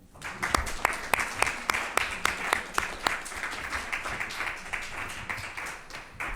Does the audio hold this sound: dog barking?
no